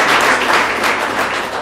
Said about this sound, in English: So if you give these sponsors a round of applause